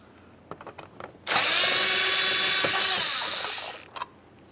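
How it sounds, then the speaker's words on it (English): A power screwdriver runs in one loud, steady whir for about three seconds, removing Phillips head screws from the interior door pull handle of a 1994-2001 Dodge Ram 1500, with a few soft clicks and taps before and after. "reach right inside this area and remove 2 Phillips head screws"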